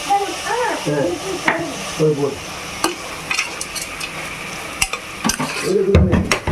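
Lemon rice seasoned with turmeric and salt is stirred in a pan, giving scraping spoon strokes over a steady sizzle and the odd metal clink, while a voice talks in between.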